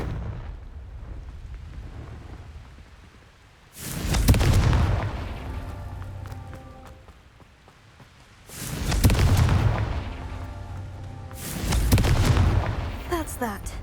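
Confringo explosion spells in Hogwarts Legacy, three heavy booming blasts spaced several seconds apart, each with a rumbling tail and debris, loud and close, with a voice casting before the first.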